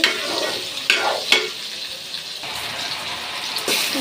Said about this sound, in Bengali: এদিকে আমার আলু আর কাঁকড়াগুলো ভাজা হয়ে যাচ্ছে